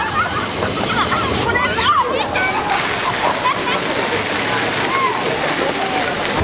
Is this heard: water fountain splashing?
yes